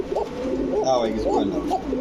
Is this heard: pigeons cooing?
yes